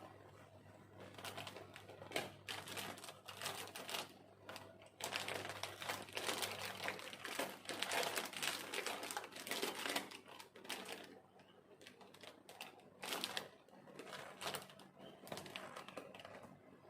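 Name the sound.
adhesive tape being pulled and applied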